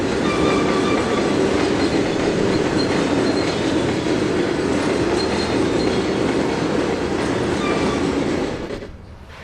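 Freight train in Trainz 2022 rolling steadily along the rails, a dense continuous rumble with faint wheel squeal and clatter, loud and close throughout before easing off at the very end.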